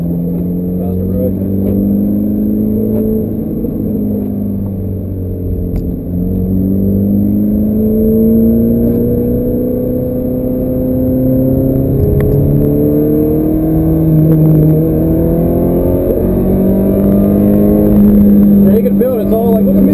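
Audi R8 and Ferrari F430 engines on a wet track at PIRC, a droning engine note rising and falling through the gears, heard from inside the car while people talk over it.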